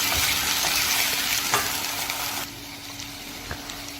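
Potato pieces frying in oil in a pan along with onion, a steady close sizzle and crackle with occasional stirring knocks, softening slightly partway through.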